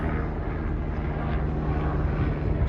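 A steady, fairly loud whooshing roar of a helicopter overhead fills the whole short stretch, without pauses or voices.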